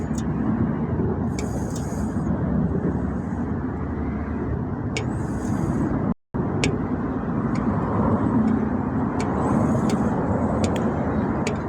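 Road traffic hums steadily and loudly throughout, a dense rumble of passing cars with intermittent sharp clicks and brief high hisses, broken once by a split-second dropout.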